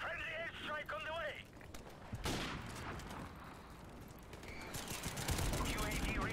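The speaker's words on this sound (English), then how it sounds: "Friendly airstrike on the way." Distant rumbling explosions and scattered gunfire from a friendly airstrike in a shooter video game, muffled and layered under continuous talk and other game sounds.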